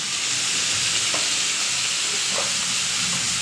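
Tomatoes sizzling and frying in a pan for baingan bharta, a steady, close hiss of hot oil throughout with faint stirring scrapes, no voices.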